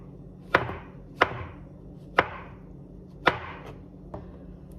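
A knife slicing market mushrooms on a cutting board, five sharp separate chops at a steady, unhurried pace, close and clear with no talk.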